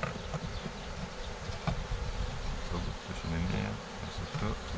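Honeybees swarm and buzz around an opened Layens hive during a transfer from a Dadant nuc, a dense steady drone with close passing wingbeats and small knocks as wooden top boards are set back over the frames.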